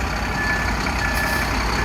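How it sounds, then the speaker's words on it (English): A concrete truck backs up on a residential job site where a driveway and sidewalk are about to be poured, its reversing alarm beeping steadily at a high pitch over a loud, constant diesel engine rumble. "We got the truck here."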